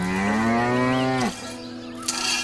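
A cow gives a single long, loud, close moo that swoops downward and breaks off, followed by a short quiet tail of ambient noise.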